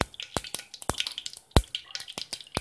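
Mustard seeds and asafoetida sizzle in hot oil for Gujarati dal dhokli, with a run of sharp, irregular pops and crackles over a faint frying hiss, close and moderately loud.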